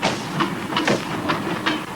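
A passing train rattles along in a steady run of rhythmic clattering bursts, close and moderately loud, like wagons rolling over rail joints.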